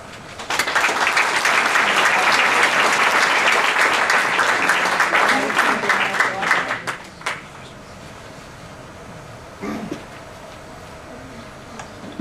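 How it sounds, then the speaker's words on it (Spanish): An indoor audience at a flash-fiction reading marathon bursts into loud, dense clapping that holds steady for several seconds, then thins and fades into scattered claps and quiet room noise. "un distinguido público que, quizá consciente de estar asistiendo a un suceso breve pero extraordinario, aplaude, casi de inmediato"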